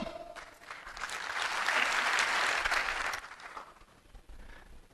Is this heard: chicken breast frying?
no